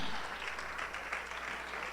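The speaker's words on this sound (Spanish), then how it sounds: "Un aplauso para el Señor." A short burst of applause at a church service, a dense patter of clapping from a crowd, fairly faint and even across the moment.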